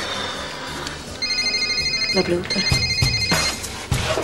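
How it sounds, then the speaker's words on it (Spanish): An electronic telephone ringtone chimes repeatedly in a steady pattern, with a brief spoken word and some room noise underneath. "Atenderé acá el teléfono."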